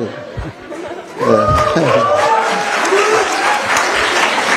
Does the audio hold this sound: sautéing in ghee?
no